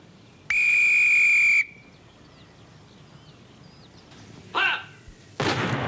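A whistle is blown once in a loud, steady, shrill blast lasting about a second, followed by a brief pop and a burst of noise like distant gunfire.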